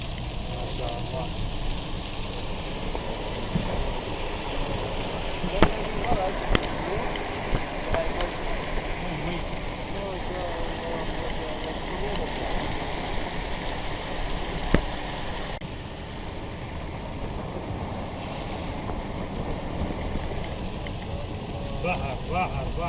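Heavy rain pours down in the eastern Deir ez-Zor countryside, a dense, continuous hiss of rainfall and running water, with a few sharp knocks and a slight drop in level near the end.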